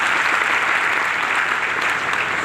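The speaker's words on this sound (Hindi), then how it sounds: "मैं चाहूंगा एक बार गोल्ड के लिए जबरदस्त ताली बजाइए" Loud, steady applause from a crowd at a network marketing business event, continuous dense clapping throughout with no break.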